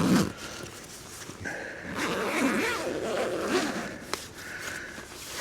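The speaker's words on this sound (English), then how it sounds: "I'll get this zipped up." A tent door zipper on a cheap hot tent is pulled shut in several close strokes, each a raspy ripping sound. There is a short pause between strokes and a faint knock near the end, and no one speaks.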